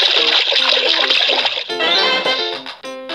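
Flowing river water in a kids' savanna animal game, a rushing, splashing stream with a tinkling musical layer mixed in.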